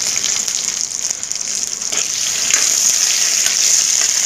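Garlic cloves, ginger and five or six green chillies frying in a pan for hotel-style shahi paneer, giving a steady, close, continuous sizzle with faint stirring and no talk.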